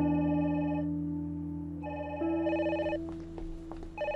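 A telephone rings in repeated electronic bursts, loud and close, over a sustained musical drone from a drama soundtrack, with no talking.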